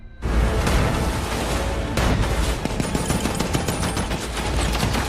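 Naval gunfire from an American destroyer shooting at a German U-boat in a war film, a sustained rattling barrage of rapid shots with heavy booming underneath, loud and continuous.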